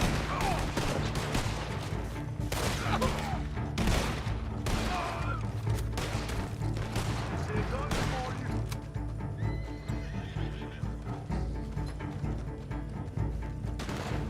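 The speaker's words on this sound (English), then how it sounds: "Two shots in the back room, shotty," Shotgun blasts in the Western video game Red Dead Online, a few sharp shots early on amid horse whinnies, hoofbeats and dense game ambience.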